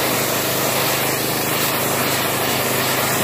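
A pressure washer sprays a hard, hissing jet of water during a mobile car wash, test-fired away from the vehicle, loud and constant throughout.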